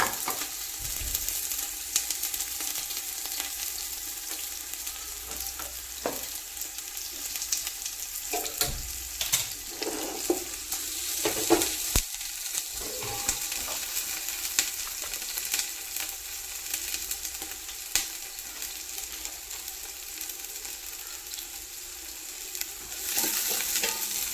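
Onions fry in hot oil in a pan with a steady sizzle, while a spoon scrapes and stirs them in irregular clattering bursts, close and moderately loud, with no talk.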